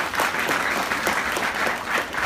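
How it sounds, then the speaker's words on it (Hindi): Audience applause at a spoken talk, a dense, steady patter of many hands clapping together, held evenly at moderate loudness for the whole two seconds with no voices over it. "आप अपने आप के लिए जोरदार ताली बजाइए"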